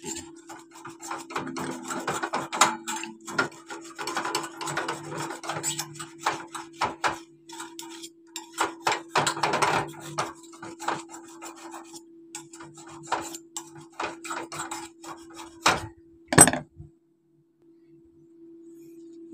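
A screwdriver scrapes carbon crust off a carburetor in close, rough scratching strokes that come in uneven bursts over a steady faint hum, ending with one sharp knock, with no talking.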